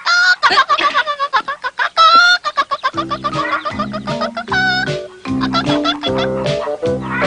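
Chicks cheep in a classic Korean animated cartoon, giving a quick run of loud, bright chirps followed by a busier stretch of cheeping layered over lower, stepped tones.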